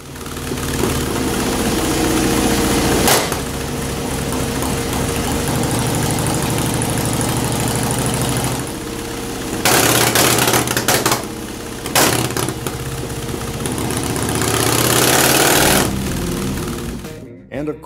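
An S&S Super E or G carbureted motorcycle engine jetted too lean idles and runs with a rough, uneven mechanical clatter, loud and close, with brief throttle blips and a cutoff at the end.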